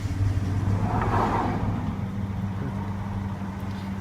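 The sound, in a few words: 2002 Toyota Tundra V6 engine cranking and running, checking for belt squeal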